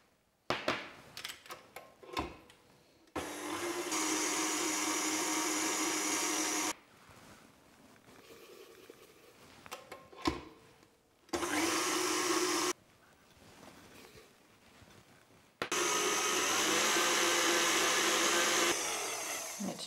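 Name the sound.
electric mixer whisking egg whites and sugar to stiff peaks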